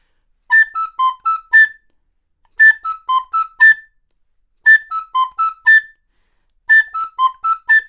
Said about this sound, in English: the recorder plays a second voice